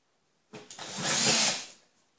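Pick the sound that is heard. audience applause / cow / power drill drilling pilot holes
power drill drilling pilot holes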